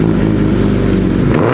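A Hayabusa motorcycle engine runs loud and close, a continuous throaty roar with a slight rev that cuts off abruptly at the end.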